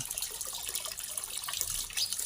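Water from a tap gushes into a bucket in a steady, close, continuous splashing rush with no voices over it.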